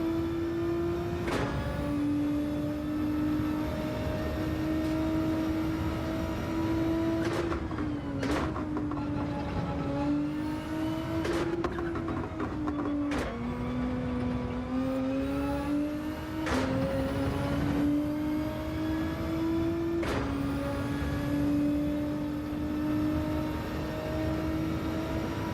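Nissan GT-R race car in Gran Turismo 7 revs its engine continuously, the pitch climbing through gears and dropping sharply at each upshift, loud and close with no voices.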